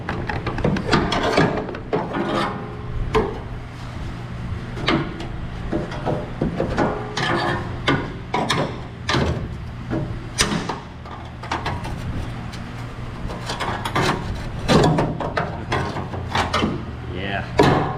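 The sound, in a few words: prying loose a spot weld on a 67 Chevelle hinge pillar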